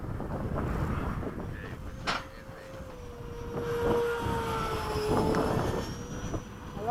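An E-flite 70mm Viper RC jet makes a fairly faint ducted-fan whine that rises and falls in pitch as it passes overhead, with outdoor wind rumble on the microphone.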